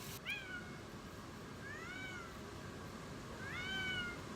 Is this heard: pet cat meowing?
yes